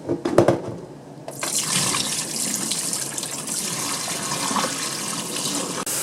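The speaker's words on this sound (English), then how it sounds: "we're going to drain the brine into the sink" Turkey brine draining into a kitchen sink, a steady broadband rush of pouring liquid that starts after a second of clinks and then runs continuously and fairly loud, with no talking.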